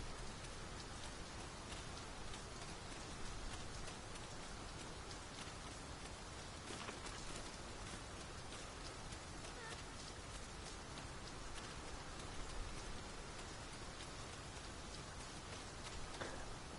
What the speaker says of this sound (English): Tis raining most heavily.